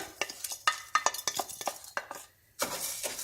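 A utensil repeatedly scrapes and clinks against a pan while washed rice is stirred in hot oil, giving irregular scraping strokes with a soft sizzle underneath, close and fairly quiet, with a brief pause before stirring resumes.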